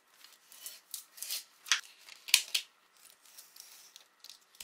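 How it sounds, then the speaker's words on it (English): A utility knife slicing excess paper off the edges of a TV tray, heard as a series of short, quiet crisp cuts and scrapes close by, with brief pauses between strokes. "started cutting off the excess with my utility knife"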